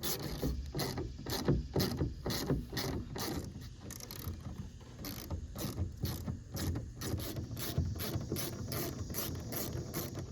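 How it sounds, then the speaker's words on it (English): A ratcheting tool loosens screws from the roof rack rails of a third-generation Toyota 4Runner, giving quiet, rapid repeated clicking bursts in a regular rhythm, close and alone. "we're gonna go ahead and remove the 5 screws on each rail and remove the rails"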